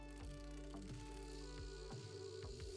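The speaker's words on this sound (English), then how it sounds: "That motorcycle mount is very loud." Motorcycle mount in the online game Fiesta gives a continuous loud mechanical drone with steady tonal hum and repeated sharp ticking pulses, heard alone without talk.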